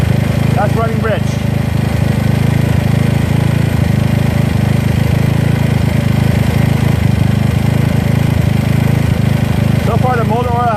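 A GY6 scooter engine with an OKO PWK 30mm carburetor idles rich, a steady, loud, even drone that runs unbroken throughout, with brief voices breaking in near the start and the end.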